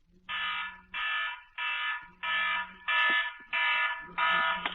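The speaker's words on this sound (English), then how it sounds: "Alarm." A fire alarm sounds in regular pulsed bursts, seven beeps of about half a second each with short gaps, clear and moderately loud, with a faint low hum beneath some of the beeps.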